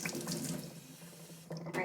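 Tap water gushes steadily into a bathtub being filled for a dachshund's bath, a continuous close splashing rush with a slight shift near the end.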